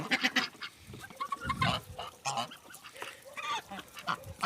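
Several geese honk repeatedly at close range, overlapping nasal calls in an irregular chorus with no talking.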